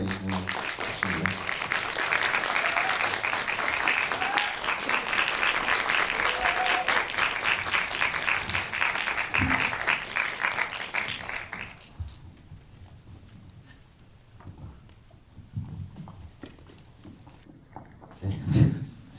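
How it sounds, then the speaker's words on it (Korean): Audience applause welcoming guests at an indie film talk event in Korea, a full crowd clapping loudly for about twelve seconds before fading, followed by quieter room noise, shuffling and a few voices. "박수로 환영해 주시면 좋겠습니다."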